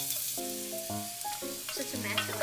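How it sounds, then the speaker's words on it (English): Garlic, green pepper and onions fry in a pan with a soft sizzle under a few short tonal clanks and scrapes of a utensil, brief and close, no voices. "We're gonna cook the remaining garlic, green pepper,"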